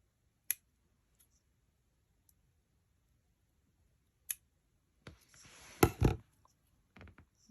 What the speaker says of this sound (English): I'm using the big scissors and it doesn't want to cut.